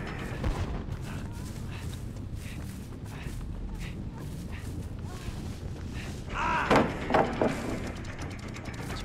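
Firecrackers go off in the horror game Dead by Daylight as a brief burst of rapid crackling pops, loud and close, following a stretch of footsteps and game ambience, with a voice talking faintly underneath.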